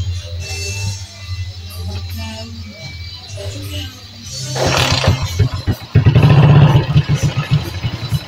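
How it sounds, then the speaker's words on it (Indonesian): A Suzuki Shogun 110 motorcycle with lost ignition and charging, battery just refitted, is started after a few seconds of quiet background. The engine catches and runs with a loud, steady, rattling idle that grows stronger toward the end. "sekarang ini saya nyalakan motor sekali lagi mas ya"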